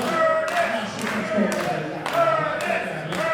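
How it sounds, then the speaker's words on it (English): A wrestling crowd at the Watering Bowl claps and cheers in support of Curtis Cole, with repeated bursts of claps and thuds over a noisy room and voices mixed in. "Crowd here at the Watering Bowl showing their support for Curtis Cole."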